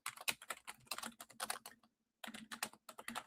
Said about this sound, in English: I'll be 1 second while I'm typing this in.